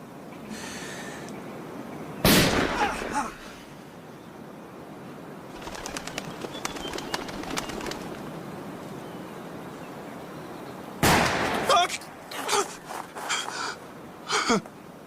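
Ship cannons fire in a Napoleonic naval battle aboard HMS Surprise: two heavy, booming blasts several seconds apart, each with a rumbling tail, over quiet ambient noise and some faint rustling between them.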